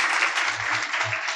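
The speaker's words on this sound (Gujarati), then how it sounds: "તો જોરદાર તાળીઓથી વધાવીએ" An audience applauds in a dense, sustained burst of clapping at a religious gathering honouring a senior swami's birthday, with a few faint voices mixed in beneath.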